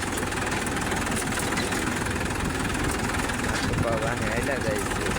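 A tractor engine runs steadily in a farm field during sowing, a continuous low rumbling drone with a slight knock that holds at an even level throughout.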